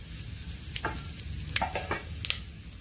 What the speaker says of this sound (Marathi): तर याच्यामध्ये आपण खडे मसाले घालणार आहोत।